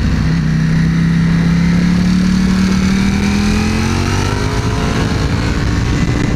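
A Ducati Panigale V4 S is ridden hard around a racetrack circuit. The loud, close engine climbs steadily in pitch as it accelerates, with no voices over it.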